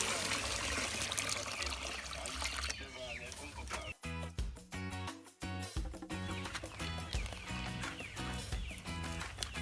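Water is poured and trickles steadily into a container while a chicken is prepared for scalding outdoors in a country setting. Chickens cluck nearby, and a person talks over the liquid sound.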